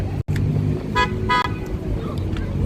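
Two short car horn honks sound in quick succession on a busy Las Vegas street at night, over a steady rumble of traffic.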